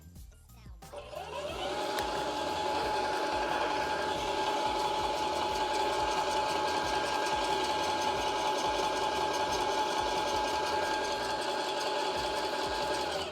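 A Graco Ultra Max II 650 PC Pro airless paint sprayer pump starts up after a brief pause, priming with water, and runs with a steady, loud mechanical whine and rapid rhythmic clatter.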